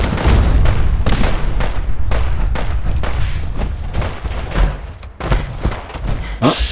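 Dense, continuous gunfire rings out in Fallout 4 during the battle for Bunker Hill, with heavy booming shots and thuds pounding almost without pause, loud and close throughout.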